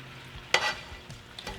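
Bowtie pasta with chicken sausage sizzles in a pan under a low, steady fry, broken by a couple of sharp scraping stirs.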